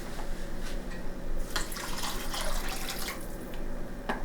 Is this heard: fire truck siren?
no